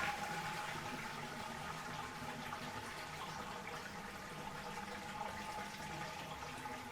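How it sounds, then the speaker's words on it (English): A toilet flushes and water drains away in a steady, continuous rushing wash that stays even and fairly quiet from start to finish, with no voices. "I'll flush this, and you can watch the water"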